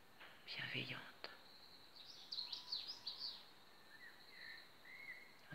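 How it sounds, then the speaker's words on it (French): Faint bird chirps and short tweets scattered through quiet outdoor ambience, with a soft whisper-like rustle near the start. "Entendez le chant des oiseaux qui vous accompagnent dans ce jardin."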